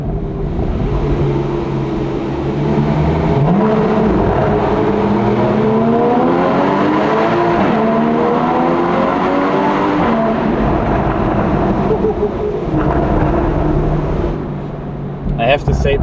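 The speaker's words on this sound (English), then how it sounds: "I have to say the 997 sounds amazing as well." Base Porsche 997.2 Carrera with a naturally aspirated 3.6-liter flat-six, driven on the Susten mountain pass: a loud, continuous engine note that climbs and falls through the revs for most of the run, easing off near the end.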